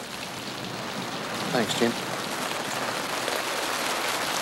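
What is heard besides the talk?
rain starting to fall outdoors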